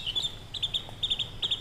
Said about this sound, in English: the sounds of birds chirping